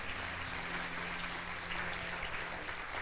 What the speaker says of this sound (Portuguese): Aplauda o Senhor mais uma vez se você crê.